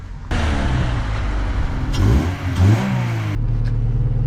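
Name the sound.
car engine starting up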